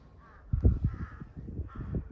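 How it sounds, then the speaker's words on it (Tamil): Crow cawing on a mountain trek near Kasol, a series of harsh, rough caws in close succession, moderately near and alone. "காக்கா சவுண்டு மட்டும்தான்."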